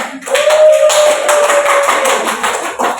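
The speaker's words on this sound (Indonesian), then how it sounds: "Beri tepuk tangan." Schoolchildren in a primary classroom clapping together after a group presentation, a close, dense burst of hand claps lasting a few seconds before fading.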